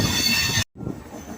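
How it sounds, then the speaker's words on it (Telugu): The Vivek Express running on rails, a loud close rumble with wheel squeal that cuts out abruptly for a moment before resuming more quietly. "మన ట్రైన్ అయితే నాగర్కోయిల్ వైపు అయితే వెళ్తూ ఉంది."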